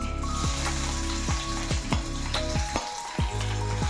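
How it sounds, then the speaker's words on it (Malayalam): Ginger and garlic frying in hot oil for aloo paratha, a steady close sizzle punctuated by sharp clicks of a spoon stirring against the pan roughly every half second. "എണ്ണ ചൂടായിട്ടുണ്ട്. ഇതിലേക്ക് ഇഞ്ചി വെളുത്തുള്ളി ഇട്ട് കൊടുക്കാം."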